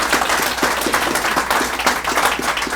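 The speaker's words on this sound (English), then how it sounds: "let's give him a round of applause as well" A crowd applauds a man at a ribbon cutting for a workforce innovation center, steady clapping from many hands filling the whole stretch at moderate loudness.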